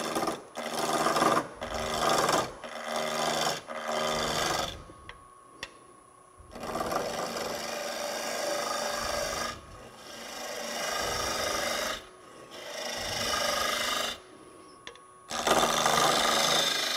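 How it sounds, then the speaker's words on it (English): Lathe turning of a wooden pointed vessel with aggressive hogging cuts, a loud close rasping roar in long bursts broken by brief pauses as the gouge lifts off the wood. "I'm going to do a lot of hogging, a lot of, you know, I'm doing an aggressive cut."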